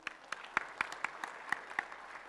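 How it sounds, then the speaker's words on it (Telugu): An audience in an indoor hall at a film's diamond jubilee function claps sparsely, with a string of distinct, fairly faint hand claps spread irregularly across the moment. "చప్పట్లు."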